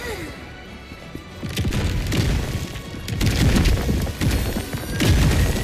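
Bombs go off in a video game with heavy booming blasts and crashing impacts that swell and layer over a rumbling background, loud and continuous through the latter part.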